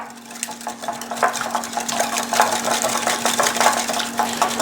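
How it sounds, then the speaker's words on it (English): A whisk beating buttermilk, sugar and eggs in a bowl gives rapid, irregular metallic clinks and scraping against the bowl, close and continuous under a steady low hum, with no voices. "whisk that together, combine really well"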